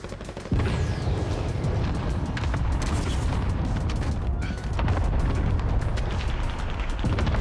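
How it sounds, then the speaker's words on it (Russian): Cluster bombardment in the Warzone video game sets off a continuous barrage of heavy booming explosions that overlap into a dense, loud rumble, easing briefly in the middle before building again. "Союзник начал кластерную бомбардировку."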